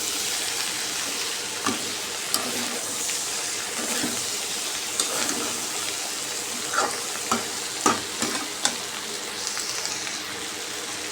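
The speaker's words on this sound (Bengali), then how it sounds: "এবার একটু নেড়ে দেবো।" Mutton curry sizzles in a pan as a spoon stirs it, with irregular scraping knocks that come more often toward the end over a steady frying hiss.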